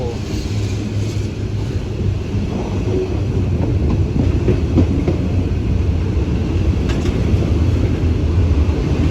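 Very long Thai passenger train 778, hauled by diesel locomotive D.4139, arriving at a station with a loud, continuous close rumble of engine and rolling wagons and faint rhythmic wheel clatter over the rails.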